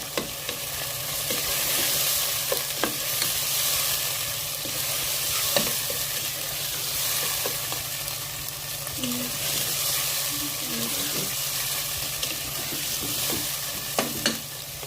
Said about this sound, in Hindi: और अब हम इन्हें ज़रा तेज़ आंच पे कुक करेंगे ताकि ये टमाटोज जो हैं ये थोड़े सॉफ्ट हो जाएं